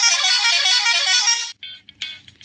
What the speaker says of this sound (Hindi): ये देख सकते हो अलग अलग हॉर्न भी बज रहे हैं।